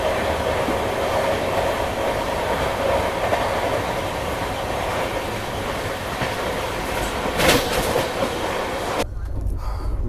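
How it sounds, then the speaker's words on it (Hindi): The Paschim Express passing Bamnia railway station at 110 km/h, a loud continuous rushing roar with wheel rumble and a brief louder burst of clatter before the noise drops away at the end. "110 किलोमीटर प्रति घंटे की रफ्तार से पश्चिम एक्सप्रेस बामनिया रेलवे स्टेशन को पार कर रही है।"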